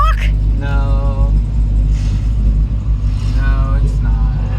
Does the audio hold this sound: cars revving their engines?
yes